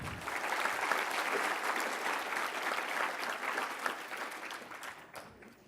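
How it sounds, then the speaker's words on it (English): An audience at a county small business awards ceremony gives a sustained round of applause for category finalists, full and even clapping from a large crowd that fades slightly toward the end. "let's give another round of applause to the finalists in this category"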